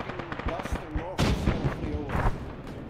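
Gunfire in the military shooter game Arma: several sharp, close bursts and booming shots crack out amid ongoing battle noise while a voice talks underneath.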